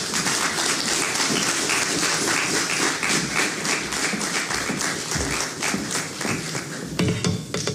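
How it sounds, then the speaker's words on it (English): An audience at a journalism anniversary symposium and lecture breaks into sustained applause after a speech, dense loud clapping from a large crowd that thins slightly toward the end. "a bigger round of applause for her"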